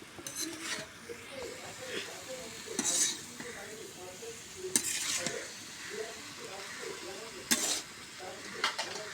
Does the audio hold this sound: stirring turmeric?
yes